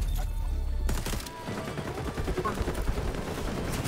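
Rapid gunfire in XDefiant, a close, loud burst after a heavy opening shot, then a fast stream of automatic fire with faint talk underneath.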